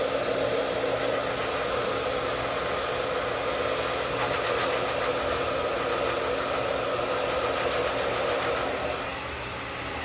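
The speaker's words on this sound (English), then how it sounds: "Remember, when you guys have the blow dryer on heat, movement." Handheld blow dryer on heat drying hair during a volume pompadour blow-dry, a steady close, loud whooshing roar holding for the whole span and easing slightly near the end, with no talk.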